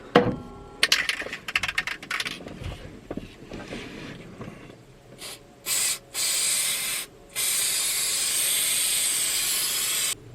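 Adhesive is sprayed from an aerosol can onto the base of a car headliner in short, loud hissing bursts, including one longer, sustained blast. Softer rustling and handling noises come before the bursts.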